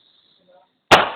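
A single sharp gunshot cracks out loud and close after a quiet moment, with a faint murmur just before it.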